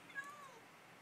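A single short house-cat meow, high and faint, over quiet room background with no talk.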